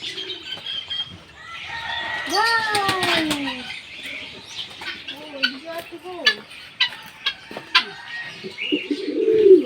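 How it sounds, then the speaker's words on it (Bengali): Fantail pigeons with peacock-like crests are close by at a farm, giving soft cooing calls mixed with wing flaps and other bird chatter, with a few calls standing out over the steady flock sound. "ও কি সুন্দর সুন্দর পায়রা, একদম ময়ূরের মতন ঝুটি।"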